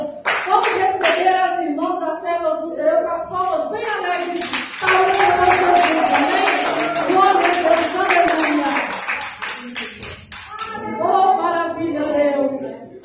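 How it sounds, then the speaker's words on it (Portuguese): A church congregation claps hands in applause at an evangelical worship service: a dense, steady burst of clapping that fills the middle of the clip, with a voice speaking before and after it. "Vamos receber as irmãs com as palmas bem alegres."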